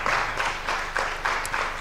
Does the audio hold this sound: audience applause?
yes